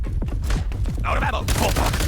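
Video game weapon fire crackles in a quick volley of sharp, loud reports close by, followed by a burst of bright electronic effects.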